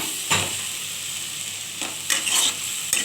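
Onions frying with five-spice, dried chilli and garlic in a pan, giving a continuous bright sizzle, with several brief bursts of stirring and scraping spaced through it.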